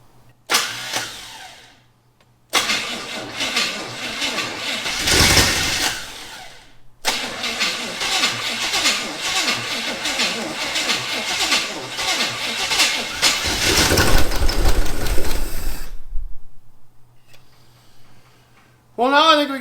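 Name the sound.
1974 Chevy Camaro 400 engine starting and running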